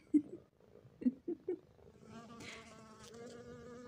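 A faint, steady buzz of bees hums in the background, rising slightly in the second half, with a few soft vocal sounds early on.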